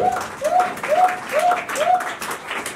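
A church congregation applauds in a steady rhythmic beat, with repeated rising vocal cries riding over the claps, loud and close.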